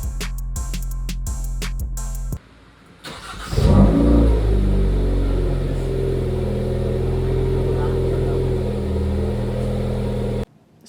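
A 2022 Hyundai Kona N with a freshly installed oil cooler pulls away, its engine revving up loudly after a few sharp clicks and a brief pause, then settling into a steady, close, sustained drone until a sudden cutoff.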